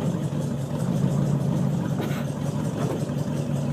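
A 1975 International Harvester pickup engine runs at a steady low rumble, close by and continuous, with a slight rise in revs partway through and no talking.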